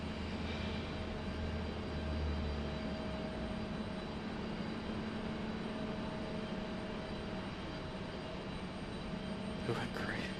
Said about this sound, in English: Was able to get the departing aircraft in the same shot